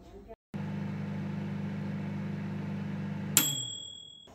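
A microwave oven heating homemade legume veggie snacks at 800 watts runs with a steady low hum after a click, then a bright ding rings out and fades as the cycle ends.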